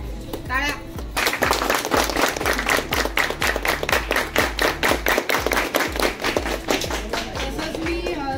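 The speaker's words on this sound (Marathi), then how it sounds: "टाळ्या." Sustained applause from a crowd of people at a Govinda pathak honouring ceremony, with a steady burst of rapid clapping that starts after a second and carries on loud and close throughout.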